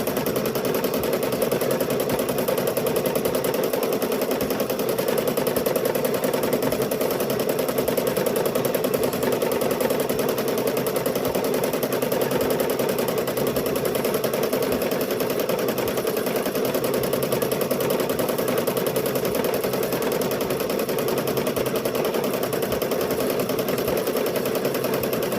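A long-arm quilting sewing machine with about 19 inches of throat space runs steadily, stitching squiggly doodle lines down the end of a quilt. The rapid, even mechanical chatter holds at a constant level throughout, close up with no voices.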